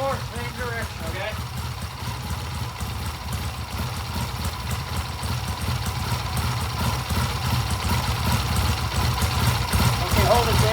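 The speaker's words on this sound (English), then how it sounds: "Now give it a rev." A trike engine runs steadily and rises gradually in level as it is revved, a continuous low rumble with voices talking over it near the start and end.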